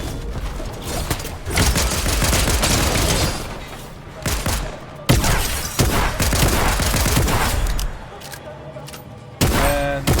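Gunfire in a Fortnite fight: dense, loud bursts of rapid shots and booms fill most of the stretch, broken by a couple of short gaps.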